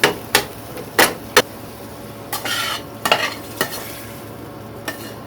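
260 grams of corned beef in a pan, a spoon scraping and clanking against the metal in sharp separate strokes over a faint background sizzle.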